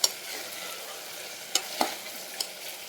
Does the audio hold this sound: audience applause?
no